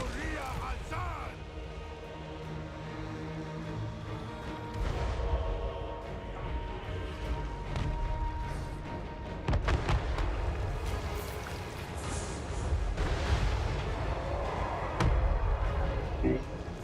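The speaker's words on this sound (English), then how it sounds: "Magma cannons are so good for early game. This the Fury explosion is cool." Magma cannons fire and explode during an early-game battle in Total War: Warhammer 3, with Chaos Dwarfs on an Old World map. Dense, continuous booms and crashes mix with battle noise, and a voice talks over it.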